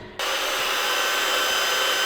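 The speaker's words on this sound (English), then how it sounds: "So I just got to drill a hole through this." A handheld electric drill bores a hole through metal, starting abruptly and then running as a steady, strained whine with grinding texture, close and continuous, with no talking.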